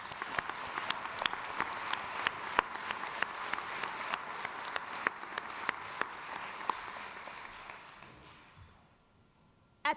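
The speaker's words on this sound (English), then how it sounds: "Let's have a round of applause for each other." Audience applause at a graduate business school commencement ceremony at a Jesuit Catholic university, a broad wash of clapping with sharp individual claps standing out, steady for most of the stretch and then fading away near the end.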